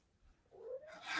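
An excited pet cat lets out a single rising, drawn-out meow that swells into a loud, harsh yowl at the end, close to the microphone.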